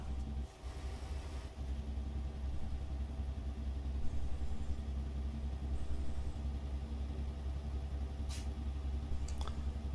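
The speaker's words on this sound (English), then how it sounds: "you can hear the burble, burble, burble of the Jake on this" A truck's Jake engine brake in American Truck Simulator gives a steady, low, throbbing burble that runs continuously and close, with no talking.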